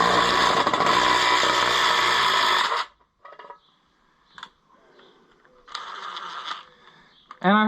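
A deep well socket wrench works on a wheel bolt while breaking down a wheel, giving a loud, dense burst of metallic ratcheting and grinding for about three seconds, followed by scattered clicks, clanks and a second shorter burst.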